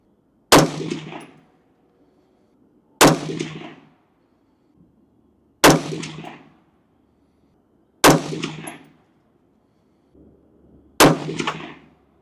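Five loud rifle shots ring out one at a time, spaced roughly every two and a half to three seconds, each a sharp crack with a short metallic ringing tail, shooting at a target 100 yards away.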